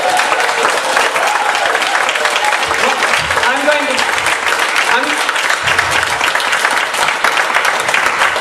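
Audience clapping at a public hearing on a wetland zoning ordinance, loud sustained applause from a roomful of people filling the whole stretch with a steady, even patter.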